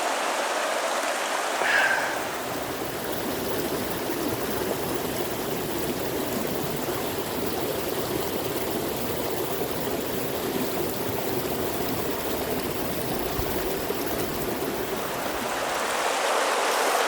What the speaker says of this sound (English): here is my creek crossing